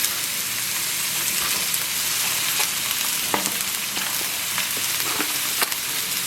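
Meat for an Arabian okra stew (bamia) sizzles loudly in a pan with onions, a steady close hiss of frying dotted with sharp crackles and occasional stirring clicks.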